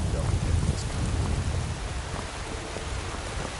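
A stormy scene in Skyrim, with steady rain hissing and a low rumble of thunder underneath, held at an even, fairly loud level throughout.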